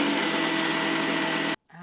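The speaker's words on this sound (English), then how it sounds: "We're gonna dump the whole package into the blender." A countertop blender purees a whole package of soft silken tofu for a vodka sauce, giving a steady, loud whirring roar that cuts off abruptly near the end.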